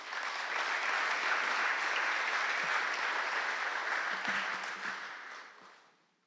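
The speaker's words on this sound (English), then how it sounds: "Can we just have a bit of a round of applause for the speakers who are just here?" An audience at a talk gives a round of applause for the speakers, dense steady clapping from many hands that holds for several seconds and then tapers off.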